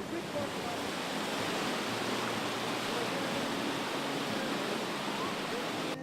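River rapids at the biggest drop on the Mulberry River in Arkansas, a steady, loud broadband rush of churning whitewater that fills the whole stretch without a break.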